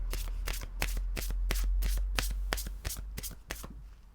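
A deck of True Love Oracle cards being shuffled by hand, a quick rhythmic series of crisp riffling slaps over about four seconds, close and clear with no talking.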